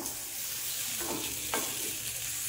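Potatoes with cumin, chili and coriander powder in hot oil for a Kolkata-style aloo curry sizzle steadily while a utensil stirs and scrapes through them in a couple of short strokes, close up.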